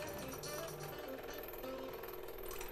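A scroll saw cuts a jigsaw puzzle from quarter-inch, five-ply Finnish birch plywood, giving a rapid, steady reciprocating chatter up close with no pauses.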